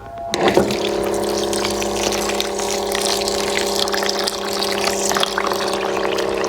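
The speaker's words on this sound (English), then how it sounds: "I'm gonna do a cup of rice, and then I'm just gonna wash it." A cup of rice being washed in water at a kitchen sink, with steady running and sloshing water throughout, close and fairly loud, with no speech.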